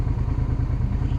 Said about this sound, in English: I reckon that black one's a Hayabusa here now